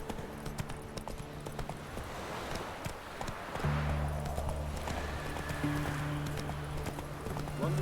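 Horse galloping in The Witcher 3: Wild Hunt, rapid rhythmic hoofbeats close by, picking up pace partway through, with game ambience and a voice speaking briefly.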